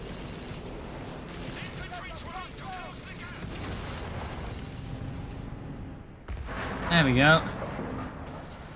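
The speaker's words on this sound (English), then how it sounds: "Massive explosion, because for some reason these are packed with dynamite" Heavy booming blasts and crackling gunfire from a World War II tank video game rumble continuously under excited commentary, with a louder burst near the end.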